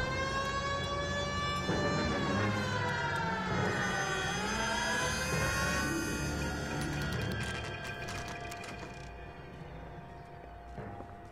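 A police car siren in the video game L.A. Noire wails, rising and falling in long sweeping tones, loud and close, gradually fading a little toward the end.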